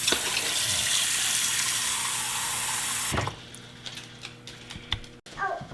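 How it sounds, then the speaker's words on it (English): Tap water running into a bowl until it is half full, a loud steady gushing stream for about three seconds that then stops, followed by quieter drips and light handling sounds close by. "fill the bowl halfway with water"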